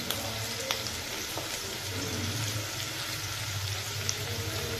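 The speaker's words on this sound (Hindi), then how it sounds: "मैंने प्याज और हरा मिर्च डाल दिया है फ्राई करने के लिए" Onion and green chili fry in a pan for an egg curry, making a continuous gentle sizzle with a couple of small clicks from the utensil, close by and free of talk.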